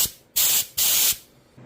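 Short paint spray gun with a fan pattern spraying clear coat: two loud, steady hissing bursts, each about a third of a second long, separated by brief pauses, close up and with no voices.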